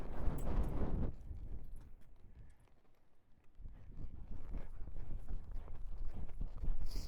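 A horse loping under a rider, its hoofbeats thudding in a steady rhythm, louder at the start and end with a quieter gap in the middle.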